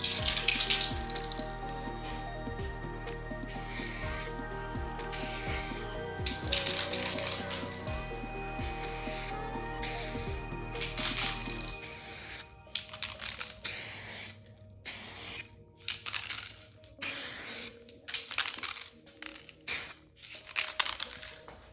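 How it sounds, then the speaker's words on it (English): Clear coat is sprayed onto a carbon fiber part in repeated short hissing bursts from a spray can, each burst separated by brief pauses, close and fairly loud over a low steady hum that drops away midway. "we're just gonna spray it with some clear coat"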